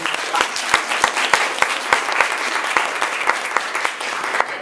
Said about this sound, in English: So let's all give Dan a big round of applause.